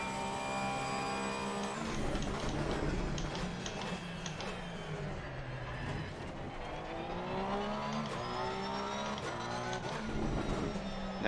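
A Porsche GT3 race car in the Assetto Corsa Competizione racing game lapping the Nurburgring, its engine a steady loud drone with shifting harmonic pitch as revs rise and fall throughout.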